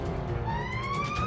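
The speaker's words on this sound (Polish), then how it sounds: "Syrena ostrzegawcza!" A cartoon warning siren rises in a sweeping electronic wail over engine rumble in Hot Wheels City, loud and close for about a second.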